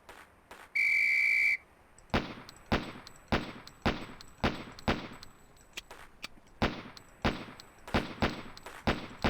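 In an FMV SWAT video game, a loud, steady whistle blast lasts under a second, then a rapid string of gunshots follows at a firing-range drill, with sharp repeated cracks in quick bursts.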